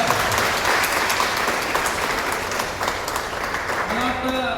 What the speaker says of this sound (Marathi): त्यांच्यासाठी एक जोरदार टाळ्या तुम्ही घ्यायला.